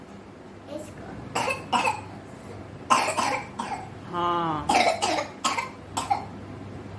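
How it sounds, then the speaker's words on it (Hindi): Several bursts of coughing in a home, sharp clustered coughs spaced across the stretch with a hoarse breathy sound in the middle, and a few short spoken words between them. "खांसी किसको हो रही है?"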